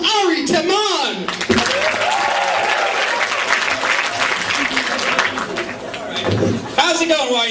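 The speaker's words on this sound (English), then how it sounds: "Please give a round of applause to Ari Teman!" Comedy audience at Yeshiva University bursts into loud, sustained applause for a stand-up comedian, dense clapping with cheers and a voice speaking over it at the start and end.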